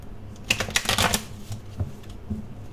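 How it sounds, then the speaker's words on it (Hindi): Tarot cards being shuffled by hand, a short cluster of quick papery riffles and flicks followed by a few lighter taps, close and moderately loud with no talking. "कार्ड्स को शफल करना शुरू करते हैं, देखते हैं क्या बताते हैं टैरो कार्ड्स हमें"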